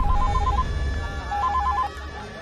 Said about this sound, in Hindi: मैं कब से तुम्हारा फोन लगा रहा हूँ।